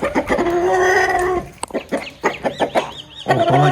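A large rooster clucks loudly and close by. A long drawn call is followed by a run of short, choppy clucks, then another sustained call at the end.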